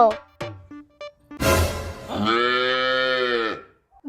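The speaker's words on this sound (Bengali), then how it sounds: "ওটা গরু, কাউ।" A cow moos once, loud and close: a long drawn-out low bellow lasting about two seconds after a short breathy snort, with brief speech-like voices before it.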